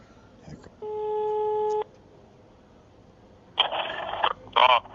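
A telephone busy tone sounds after a call is hung up: one steady electronic beep held for about a second, followed by louder crackly bursts and brief voices.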